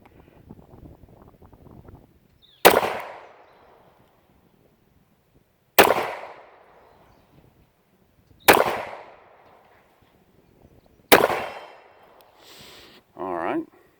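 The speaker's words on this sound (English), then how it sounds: "The gun has quite a bit of recoil for no bigger a gun than it is." Four loud, sharp pistol shots from a Taurus PT 745, spaced a few seconds apart outdoors, each with a quick echoing decay, with brief talk at the start and a short voice after the last shot.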